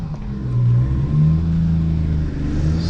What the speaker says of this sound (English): Let's go for a first drive.